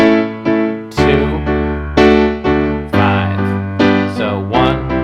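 Major chords on a sustained keyboard-like instrument are struck one after another in a I-VI-II-V progression, a new chord arriving roughly every second and ringing loudly and clearly with no talking.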